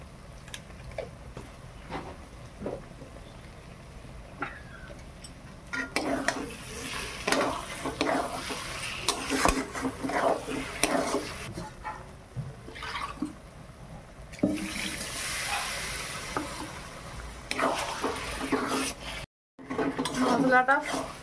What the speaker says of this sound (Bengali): মশলাটা ভাজা হয়ে গেছে, এরপর মাংসটা দেব।